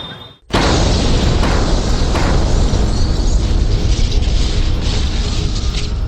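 After a brief quiet moment, a sudden loud bomb blast in a crowded Delhi area erupts into a sustained, heavy rumbling roar that continues without letup.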